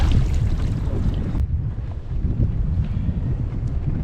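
Wind buffets the microphone outdoors on a small fishing boat out on open water, a loud, continuous low roar with a brief gust-like break partway through.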